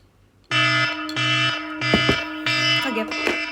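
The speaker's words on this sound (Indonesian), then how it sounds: "Oke, saatnya mematikan alarm." A loud electronic alarm, set to wake someone for the pre-dawn sahur meal, beeps in four sustained bursts with short gaps between them, close and alone with no talking.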